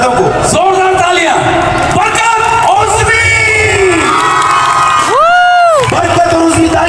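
Large live audience cheers and whoops loudly at a stage show for Pakistan's 14 August Independence Day celebration, a dense crowd roar with shouted yells rising throughout and an announcer's voice cutting in over it.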